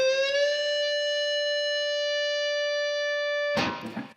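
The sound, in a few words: electric guitar solo with string bends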